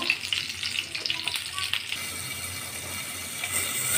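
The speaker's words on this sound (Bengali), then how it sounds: "পটলগুলো একদম ভাজা ভাজা হয়ে যাচ্ছে, দেখো লাল লাল করে ভাজা হয়ে গেছে।" Pieces of pointed gourd (potol) frying in a pan give a steady, close sizzle, with clinking and scraping of a utensil in the first two seconds before the hiss settles and swells slightly.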